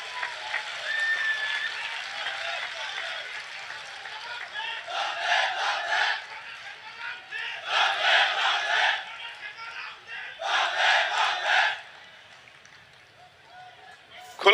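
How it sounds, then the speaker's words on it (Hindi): A large crowd at a public rally in Tripura applauds and cheers to welcome a chief minister, the claps and shouts rising in three strong waves over a murmuring, moderately distant background. "हमारे सीएम साहब के स्वागत में तालियों की गड़गड़ाहट होनी चाहिए।"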